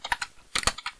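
A command typed on a computer keyboard in an Ubuntu Linux terminal: about eight crisp, close keystrokes in two quick bursts with a short pause between, with no voice over them.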